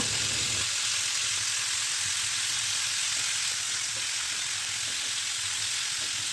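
Chicken pieces for restaurant-style chicken chaap fry steadily until golden on both sides, giving a dense, even sizzle that holds at one level throughout, with no talking.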